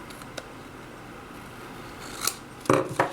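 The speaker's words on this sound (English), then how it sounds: "I'll take my scissors and just trim right alongside that old olive and trim off any that might be overhanging" Scissors trimming paper for a Stampin' Up! purse gift bag, quiet at first, then a few close, crisp snips near the end.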